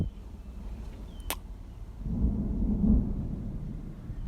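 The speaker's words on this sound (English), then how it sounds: "you can hear the thunder" Distant thunder rolls in low and rumbling during a storm, swelling after about two seconds and lingering, with a brief sharp crack early on; no talking.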